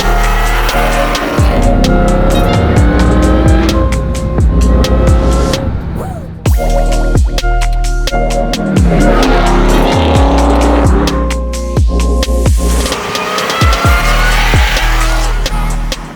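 A powerful supercharged Chevy Camaro engine roars loudly and close, revving up and down repeatedly with sharp throttle blips and gear changes.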